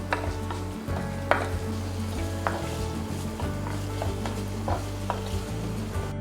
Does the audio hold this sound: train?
no